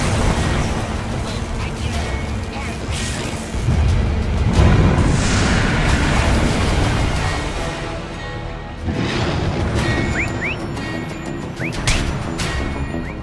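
Video game battle around a tower under attack, with repeated explosions, bursts and crashing impacts layered densely and loudly throughout, plus occasional brief effects.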